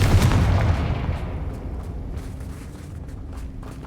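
A Confringo fire-blast spell in the video game Hogwarts Legacy erupts in one loud, close explosive boom, then rumbles and fades away over a few seconds.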